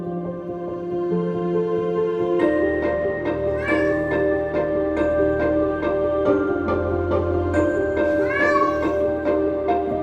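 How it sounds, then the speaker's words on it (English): Several cats at an animal shelter meow repeatedly, their calls overlapping over a steady room hum, with rising, wavering cries recurring throughout. "So many cats that need a home."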